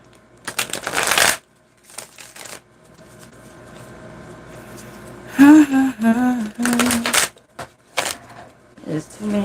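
Tarot cards being shuffled in several brisk riffling bursts, near and clear, with a voice speaking briefly between the shuffles.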